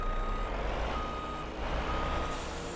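Reversing beeps from a Volvo truck in the Farming Simulator 25 video game, a steady repeating tone over a constant low engine drone, with a hiss of air brake near the end and no talk.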